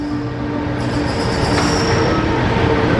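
A Washington D.C. Metro train at Capitol South station gives off a loud, continuous rumble with a sustained high wheel squeal and whine building as it moves along the platform, close by, with no talk.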